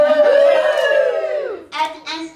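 Comedy club audience cheering and whooping loudly in a short burst of mixed voices that fades, followed by a couple of brief shouts.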